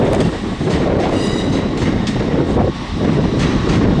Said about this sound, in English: that is the 1353 ScotRail service over to Ayr